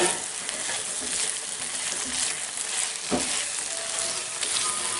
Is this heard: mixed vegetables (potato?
yes